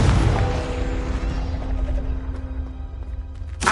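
A Confringo fire spell from Hogwarts Legacy goes off as a loud, close blast that rumbles and fades away over a few seconds, and a fresh burst starts right at the end.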